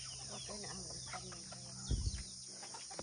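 Chickens cluck softly on a farm amid steady insect drone, with a brief louder rustle or thump near the middle.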